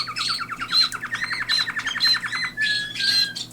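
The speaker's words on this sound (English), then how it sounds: "This is an American singer who sings like a roller." American singer canary, a breed bred from roller and border canaries, singing indoors in a bird room; rapid rolling trills and bright chirps in quick repeated bursts, loud and close with no talk.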